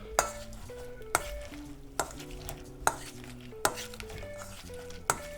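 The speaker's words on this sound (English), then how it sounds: "we're just going to take a potato masher and we're just going to start scrunching them up" Potato masher pressing sweet peas in a metal pot, a series of about seven sharp clanking strikes at a steady rhythm with soft mushy scraping between them.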